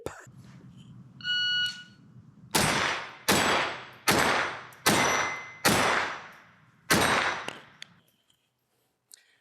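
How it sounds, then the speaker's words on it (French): A short electronic shot-timer beep sounds at a shooting drill, then six sharp, loud gunshots from a scoped firearm follow at an even pace, each ringing briefly before the next. "J'ai été surpris par le bip."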